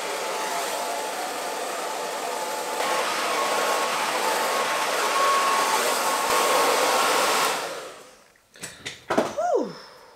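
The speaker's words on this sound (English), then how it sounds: "And I'm back, let's diffuse." Steady loud whoosh of a hair dryer fitted with a diffuser, drying curly hair, running continuously for about eight seconds before switching off, followed by a few short breathy sounds.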